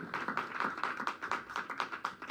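A church congregation clapping in brisk, uneven rhythm, a short burst of applause with many hands, fairly close and moderately loud.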